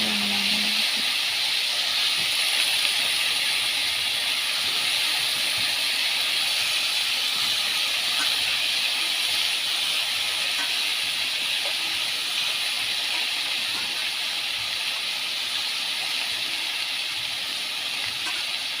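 Pumpkin and fish frying together in a pan, a loud, continuous close hiss and sizzle holding steady throughout with no voices.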